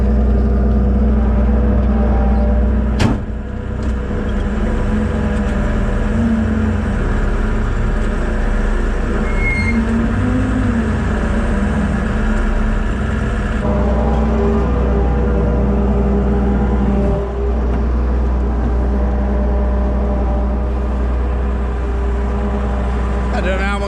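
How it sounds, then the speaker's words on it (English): A tub mixer with a big auger in the bottom, handling Loch Lomond Gold whiskey distilling byproduct in cold weather, runs with a loud, steady engine drone throughout, with a voice faintly present underneath. "it's basically it's called a tub mixer, and it's got a big auger in the bottom"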